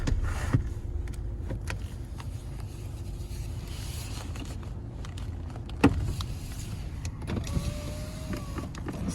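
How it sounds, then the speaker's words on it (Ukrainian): Electric power windows of a Skoda A5 car running, a low continuous motor whine with a couple of clicks and a thump as the glass stops, heard up close in a quiet cabin. "Склопідйомники працюють."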